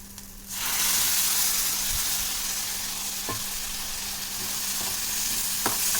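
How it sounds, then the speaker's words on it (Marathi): Boiled dried bombil fish dropped into hot masala in a pan, setting off a sudden loud, steady sizzle and hiss that continues with a few stirring clinks. "आता आपण याच्यामध्ये सुके बोंबील टाकून घेऊ, जे आपण उकळून घेतलेले आहेत"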